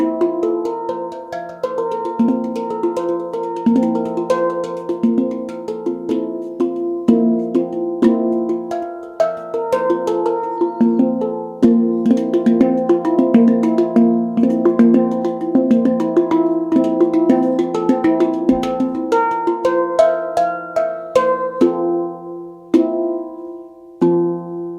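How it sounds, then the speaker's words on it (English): Handpan made of two hollow steel shells, played solo in a continuous ringing melody of overlapping bell-like notes with soft taps, close and clear, with no voices. "It's 2 pieces of steel, hollow on the inside, and sounds like this."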